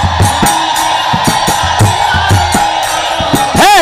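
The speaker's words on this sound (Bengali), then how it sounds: "উলুর ধ্বনি দিয়ে মায়েরা গীতারতি করো" During a Gita arati gathering, many women ululate in wavering trilled cries amid a loud crowd, with rhythmic clapping or beating pulses running underneath, close and continuous.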